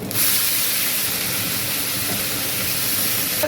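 Panch phoron and slit green chillies dropped into hot oil give a loud, continuous sizzling hiss that starts abruptly and holds steady for a few seconds.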